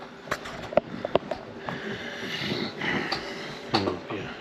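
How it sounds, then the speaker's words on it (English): A pet dog named Gomer gnawing on a bone nearby, giving irregular crunchy clicks and scrapes at a low level, with faint background noise throughout. "He's doing some chewing on a bone."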